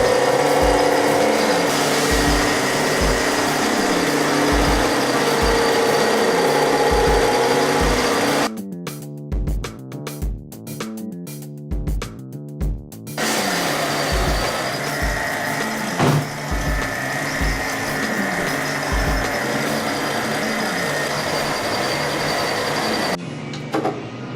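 A buffing wheel with a medium buff polishes a guitar headstock, humming steadily with rhythmic low thumps. The motor cuts out briefly midway and then resumes its continuous whirring drone.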